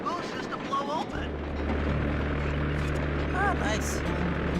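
Ice plane propeller in the Sly 2: Band of Thieves video game, a steady low droning hum that settles in after the first second and holds under ongoing game sounds and a voice talking.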